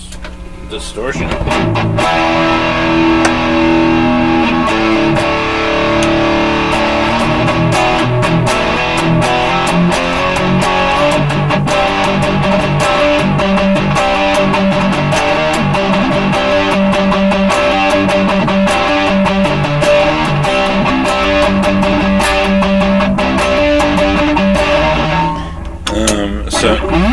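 Electric guitar with EMG or Fishman Fluence pickups plays heavily distorted riffs continuously for nearly half a minute, thick, loud and saturated with chugging palm-muted rhythm, alone without talk.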